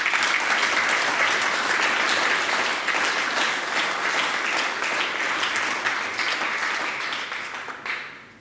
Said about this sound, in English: Let us all please give a big round of applause to all our recipients.